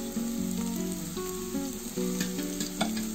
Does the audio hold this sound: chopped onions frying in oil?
yes